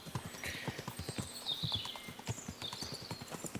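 Horse hooves clip-clop in a steady, quick rhythm in the video game Kingdom Come: Deliverance II, with a brief neigh or whinny rising over the hoofbeats, which stay close and clear with no talk.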